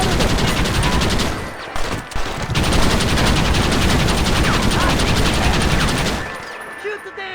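Dense, rapid gunfire rattles almost without pause in the video game Red Dead Redemption, loud and sustained for several seconds with brief gaps before it cuts off, and voices shouting beneath the shots.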